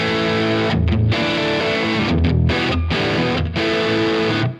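An electric guitar plays through the Marshall setting of a Universal Audio Lion amp pedal with drive on full and delay, giving loud, heavily distorted sustained chords broken by brief choppy gaps, with no talking.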